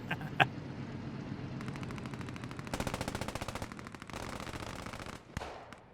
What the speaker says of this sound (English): a little bit of MG fire going on from the Panzer IV there